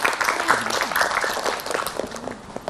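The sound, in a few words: applause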